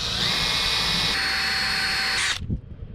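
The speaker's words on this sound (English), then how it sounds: "I hate drilling holes in my mast," Power drill boring a hole through the metal mast of a Hallberg Rassy 54 sailboat: a loud, steady high-pitched whine for over two seconds that cuts off abruptly, followed by faint handling clatter.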